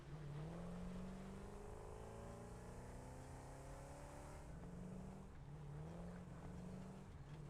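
A car driving in the factory-building game Satisfactory, its engine a steady, continuous drone with slowly shifting pitch, loud and close throughout, with no talking over it.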